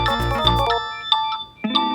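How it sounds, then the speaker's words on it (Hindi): A mobile phone ringtone plays loud and close, a bright electronic melody of sustained tones with a brief pause before the tune resumes. "तुम्हारा फोन बजने वाला है।"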